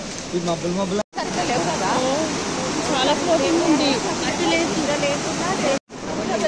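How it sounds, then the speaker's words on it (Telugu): Rushing water of the Pampa river at the Sabarimala pilgrimage site flows loud and continuous, with a crowd's voices and chatter mixed in throughout and two brief dropouts. "వాటర్ అయితే ఘోరంగా పడుతున్నాయి, ఘోరంగా ఉన్నాయి"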